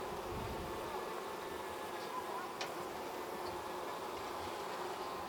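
Honeybees hum steadily around an open hive during a check for a new queen, a soft continuous drone with occasional closer passes of individual bees, faint and even throughout.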